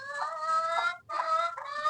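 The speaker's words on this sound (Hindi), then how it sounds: "बस मुर्गियों को तो दाना मैंने डाल दिया है" Chickens that have just been fed grain cluck close by in two bursts of nasal, repeated calls with a short pause between them.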